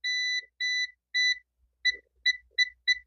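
A multimeter's continuity buzzer beeps repeatedly while testing a digital amplifier's volume component, first in three longer tones, then in shorter quick beeps, clear and close with faint clicks between.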